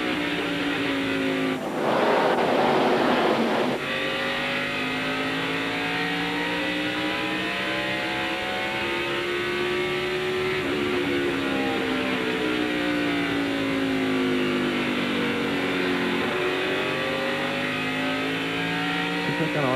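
NASCAR race cars at the 2000 Pontiac Excitement 400 roar down the backstretch at high RPM, a loud sustained engine howl with rising and falling pitch and a brief burst of louder noise early on.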